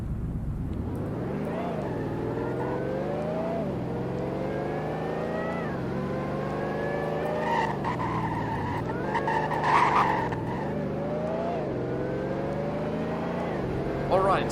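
A car engine drives close by, its pitch climbing and dropping repeatedly as it revs up through the gears, with road and tire noise throughout.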